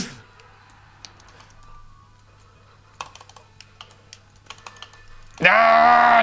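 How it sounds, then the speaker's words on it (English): Computer keyboard and mouse clicks used to play a Nintendo Switch game, a scattered string of close key taps over a low hum, then a loud burst of game sound cuts in at the end. "you're playing with a mouse and keyboard"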